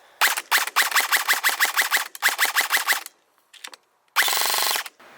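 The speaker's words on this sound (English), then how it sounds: "I'm going to show you guys another kind of trigger response / full auto shooting" A SIG MCX airsoft AEG on stock internals fires several full-auto strings of rapid, crisp mechanical clacks, loud and close. Short pauses and a few single shots fall between them, and the clip ends on a dense, steady burst.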